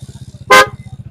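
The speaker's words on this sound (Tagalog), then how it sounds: "Anong busina niya, sir?" Horn of a Honda ADV motorcycle gives a single loud, close honk of about a tenth of a second, set over a steady low rhythmic idle throb.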